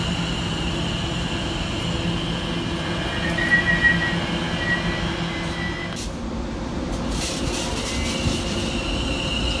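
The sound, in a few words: Class 720 train passing on Great Eastern Main Line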